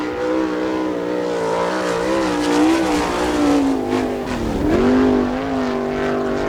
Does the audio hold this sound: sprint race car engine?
yes